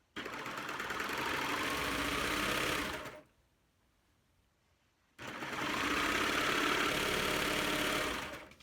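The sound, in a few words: serger sewing fabric for a pillowcase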